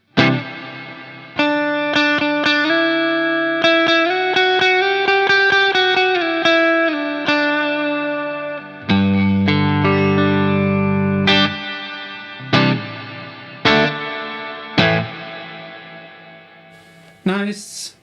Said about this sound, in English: we'll engage the reverb